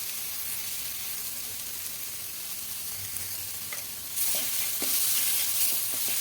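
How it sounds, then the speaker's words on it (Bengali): Ground spice paste with turmeric, Kashmiri chili powder and salt sizzles steadily while being fried in a pan for a fish head kalia. It is stirred with a few scraping strokes, and the hiss grows louder near the end. "খুব ভালো করে মশলাটা কষিয়ে নেবো"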